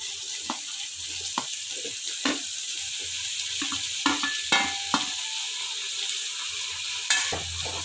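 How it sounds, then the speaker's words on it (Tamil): Onion and tomato sizzle in a frying pan for a snack bun masala, a steady hiss broken by repeated sharp scraping stirs of a spatula, close and fairly loud, with no talking. "தக்காளி ஆட் பண்ணி நம்ம நல்லா வதக்கி விட்டுக்கலாம்"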